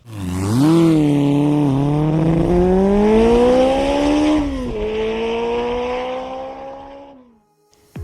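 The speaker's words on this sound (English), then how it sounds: "This is the 2022 Husqvarna Svartpilen 401, powered by a 373 single-cylinder liquid-cooled engine" 2022 Husqvarna Svartpilen 401 with a 373 cc single-cylinder liquid-cooled engine, loud and close as it accelerates through gears in a long rising pull, then eases off and fades out.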